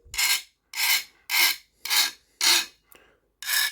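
A bastard file rasps across the tines of a garden fork during sharpening, with six even strokes about half a second apart, close and loud, and no talking.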